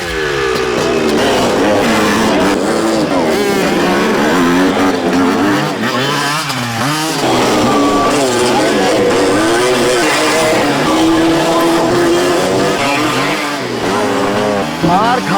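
Loud, continuous engine noise with rising and falling revs, like motorcycles throttling close by at a stunt school, with voices mixed into the din.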